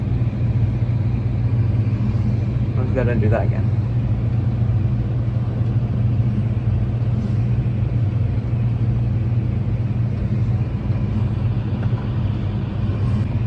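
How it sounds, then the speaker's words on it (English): A tractor engine drones steadily and loudly at close range during an oilseed harvest, a constant low rumble throughout with a brief spoken comment partway through. "I managed to accidentally push the stick right forward, so this tractor's going to speed up to 50k."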